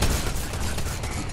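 Desert Eagle pistol fire in the video game Fatal Fields, a dense, loud burst of rapid shots and booms filling the whole moment without any voices.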